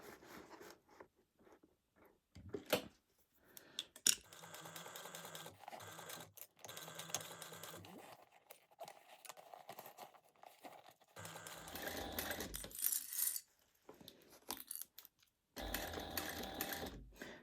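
A sewing machine stitches a bag at a quarter-inch seam, running in bursts of rapid needle chatter separated by pauses, with a few sharp clicks and handling noises in between.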